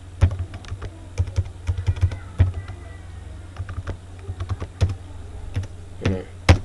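Fast, irregular typing on a computer keyboard during Debian 10 setup, crisp key clicks in bursts with brief pauses, fairly close, over a low steady hum.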